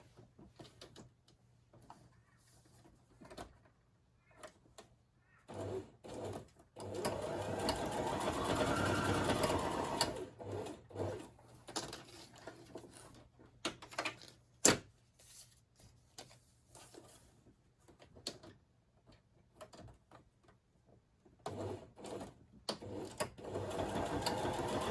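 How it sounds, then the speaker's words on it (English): A sewing machine stitching an elongated craft tag, running in short bursts and one longer steady whirring run, close but fairly quiet, with small handling clicks between stitches. "So I'm just going to quickly sew"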